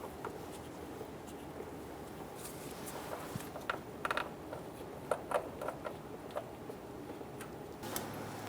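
A ratchet drives cover bolts on a 2003-2007 Honda Accord during a crankshaft position sensor replacement, faint scattered ticks and clicks in short bursts against a quiet shop background.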